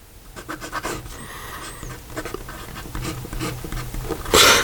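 Fine steel nib of a Penlux Metallic fountain pen scratching across paper in short strokes, quiet and close, ending in a louder brief rustle.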